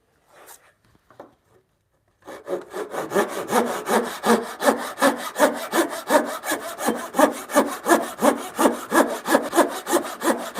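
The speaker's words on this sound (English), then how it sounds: "This is just another stop cut to help remove the waste." A hand saw cuts a stop cut in timber while making hand-cut joints for a bunk bed. After a few quiet knocks, a long run of steady, close, rhythmic back-and-forth strokes rasps on without any talk.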